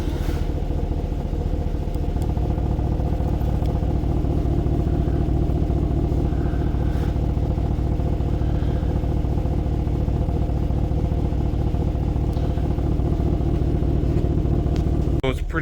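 A Ram 1500 DT pickup engine, warmed up, runs through a Flowmaster dual mode muffler, giving a loud, continuous deep exhaust rumble that holds steady for the whole stretch.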